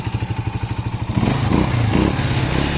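A close motorcycle engine putters at a steady idle, then revs up into a louder, rougher roar that holds to the end.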